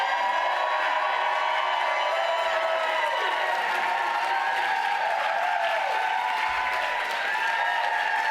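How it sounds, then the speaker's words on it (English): A large audience at an awards reception applauds continuously, with cheering and whooping mixed into the sustained, dense clapping. "let's take a moment to applaud, scream, yell,"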